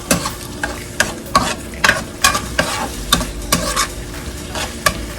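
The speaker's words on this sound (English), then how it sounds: "Let me give it a nice stir again." Pasta sauce simmering on a stove is stirred in a pan: a dozen or so regular scraping strokes with a utensil, close and fairly loud, over a steady low bubbling sizzle, with no voices.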